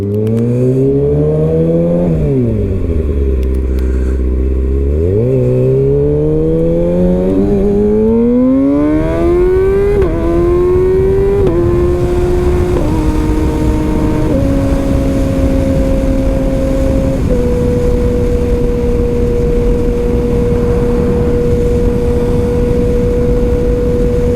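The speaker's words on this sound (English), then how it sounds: "So let's kick this thing off. Let's get on the freeway." Kawasaki Ninja ZX-6R with a Power Commander tune accelerates onto a freeway, its engine revving loud and close through climbing gear changes with wind rush, then settling into a steady high cruise drone.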